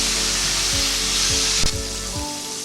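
Mushrooms for dragon chilli mushroom fry in a hot pan with a steady close sizzle, broken by a few sharp spoon-stirring knocks and scrapes.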